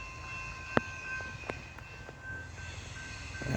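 A suburban train draws into a station on the Frankston line, with level-crossing gates lowering at the adjacent intersection. Its rumble is faint and distant, joined by steady high tones and a few sharp knocks.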